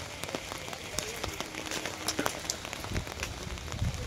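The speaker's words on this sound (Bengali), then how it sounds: "চারিদিকে শুধু বৃষ্টি।" Heavy rain pours steadily outdoors near a riverside market ghat, a dense continuous hiss of drops with scattered nearby splashes and patters, fairly even in loudness throughout.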